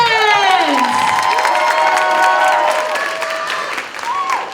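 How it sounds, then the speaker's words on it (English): Contestants at the Mr. and Mrs. Latino 2023 pageant, a university student event in Buffalo, draw loud, close crowd applause with cheering and whoops, under sustained shouting voices and bright musical tones throughout. "let's give a round of applause for our amazing contestants!"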